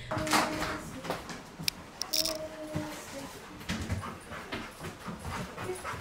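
A chocolate Labrador drug-detection dog sniffs and pants up close in short rapid bursts, with scattered clicks and knocks around it and a voice speaking at times.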